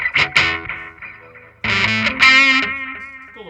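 Electric guitar played through a Donner Yellow Fall delay pedal, short picked phrases and sustained notes trailing into repeating echoes, with a pause before a louder strummed passage whose repeats thicken and ring out.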